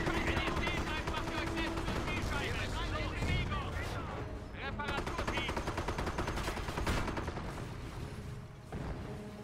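Soldiers trading gunfire in the World War II strategy game Company of Heroes: dense, continuous rifle and machine-gun bursts with booming impacts, steady and loud throughout, with someone talking over it.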